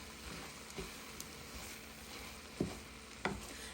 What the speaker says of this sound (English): it's been sauteing about 10 minutes